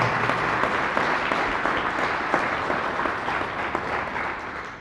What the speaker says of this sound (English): One more round of applause for Danilo